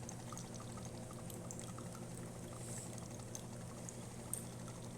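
Hot water runs from the spout of a DeLonghi La Specialista Maestro espresso machine in a steady, faint pour. A soft hiss and light trickle continue evenly throughout.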